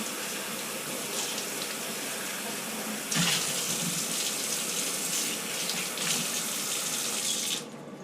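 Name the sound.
rinsing a coffee filter basket under a tap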